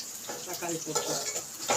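Tomatoes sautéing in a pan, a soft sizzle broken by quick stirring scrapes and clinks, close and moderately loud.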